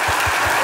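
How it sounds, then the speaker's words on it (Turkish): Studio audience applauding steadily and loudly throughout on a Turkish comedy sketch show, a dense continuous wash of clapping with low thumps pulsing at a regular beat underneath. "Çok büyük alkış."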